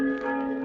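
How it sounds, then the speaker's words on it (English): A tower bell sounds a single sustained, resonant tone with steady ringing overtones, close and clear and fading only slightly over the brief moment. "Nothing but those accursed bells."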